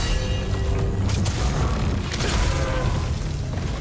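Loud, dense rumbling explosion effect from the action game The First Berserker: Khazan, a sustained low boom filling the whole stretch with no clear talk over it.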